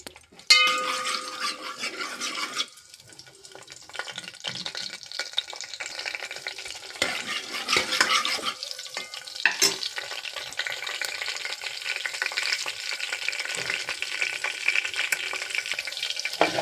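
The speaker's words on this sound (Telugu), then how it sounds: "ఆయిల్ హీట్ అయిన తర్వాత పచ్చిమిరపకాయలు వేసుకున్నాను" Green chillies fry in hot oil in a pan, a steady close sizzle with occasional stirring scrapes and clatter of the pan throughout.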